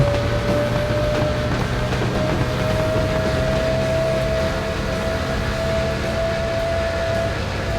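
A train passes in the Tuning Club Online racing game: a loud, steady horn-like tone holds over constant rumbling engine and track noise for the whole stretch, with no talking.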